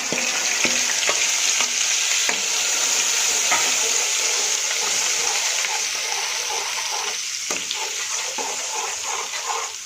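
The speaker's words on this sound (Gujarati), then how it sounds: "ત્યારબાદ આપણે આમાં ટામેટાની જે ગ્રેવી તૈયાર કરી છે એને આપણે આમાં એડ કરી દઈશું" Tomato gravy for palak chana poured into a hot pan, a loud steady sizzle with stirring scrapes and clinks, close up and continuous, no voices.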